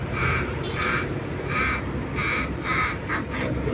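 A crow caws loudly and close in a series of about six harsh, evenly spaced calls over a noisy urban background in Metro Manila.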